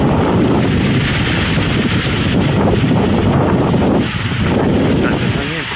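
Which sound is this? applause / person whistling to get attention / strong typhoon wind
strong typhoon wind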